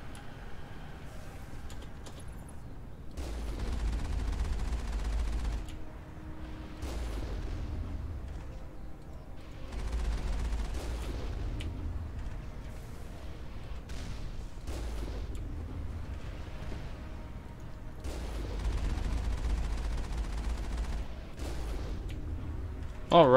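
Turrets fire in Mass Effect, loud sustained bursts of booming gunfire lasting several seconds each, repeating with brief lulls between them.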